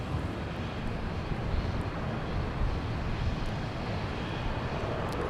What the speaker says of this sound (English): There it is, everybody, the Dreamliner.